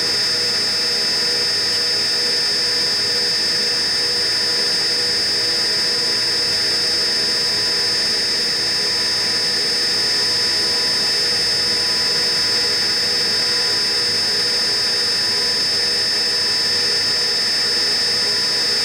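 A DCM IG 180 SD vertical-spindle CNC rotary surface grinder running a finish pass at higher spindle speed, giving a steady high-pitched whine over a constant mechanical hum that stays unbroken and loud throughout, with no talking.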